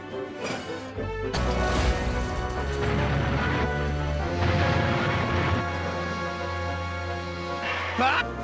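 Freight cars shoved too far by Percy, a small tank engine, crash together in a Thomas the Tank Engine scene: a sudden loud smash followed by a rumbling, clattering pile-up that lasts several seconds, with music and a narrating voice around it.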